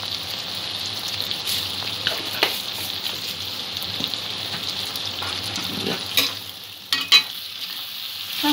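Chicken and potato pieces stirred in a hot frying pan, a steady close sizzle with soft scraping strokes of the spoon throughout and a few louder knocks near the end, no talking.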